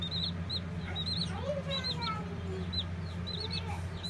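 Several chickens clucking and chirping close by in quick, overlapping bursts, over a low steady hum.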